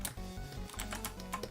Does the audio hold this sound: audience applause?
no